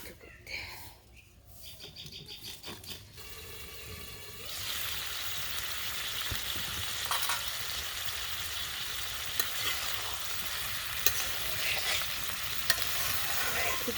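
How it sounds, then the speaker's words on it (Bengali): Soft fish curry is stirred carefully in a pot over a village cooking fire, with a steady, close sizzle and light scraping stirs running throughout and faint voices in the background. "খুব সাবধানে নাড়তে হবে"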